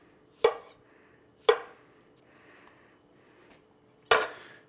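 Three sharp knife chops through potatoes on a cutting board, spaced irregularly, close and fairly loud, with quiet pauses between.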